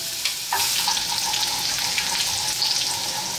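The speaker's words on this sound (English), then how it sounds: "I'm adding 1 ounce of chopped garlic, which we're going to cook for 30 seconds." One ounce of chopped garlic frying in olive oil over medium heat sizzles, with a hiss that surges up after a brief quiet start and stays close and steady to the end.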